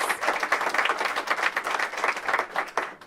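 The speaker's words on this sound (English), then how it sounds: "Let's give her a big round of applause." Applause from an audience at a public announcement by the DC mayor in Ward 8, a dense, steady wash of many hands clapping that holds for a few seconds without pause.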